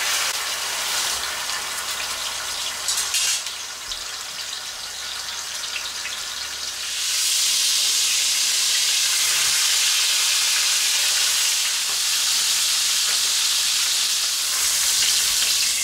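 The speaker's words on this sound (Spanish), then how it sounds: "le vamos a incorporar la carne, que la tendremos que dorar por todos los lados para que quede bien sellada" Beef round searing over high heat in hot lard and oil, a loud continuous sizzle that swells into a stronger, brighter hiss partway through as the meat browns, with no talking.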